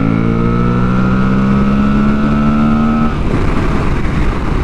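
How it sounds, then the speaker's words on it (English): An Aprilia Tuareg 660 motorcycle engine drones loud and close on a coastal ride, holding a steady harmonic tone for about three seconds before the pitch drops into rougher, broadband engine and wind noise. "Oh, and this engine"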